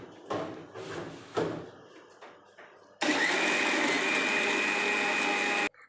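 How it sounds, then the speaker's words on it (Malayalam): An electric blender whirs steadily at full power for about three seconds while blending grapes into juice, starting abruptly after some clattering handling sounds and then cutting off sharply. "അപ്പം നമുക്ക് അടിച്ചെടുക്കാം."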